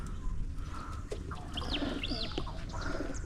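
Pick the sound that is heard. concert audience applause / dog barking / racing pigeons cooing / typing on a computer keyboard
racing pigeons cooing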